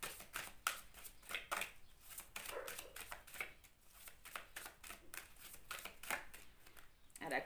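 Tarot cards are shuffled close by in a quiet room, a rapid run of soft flicking riffles and taps that keeps going at low volume.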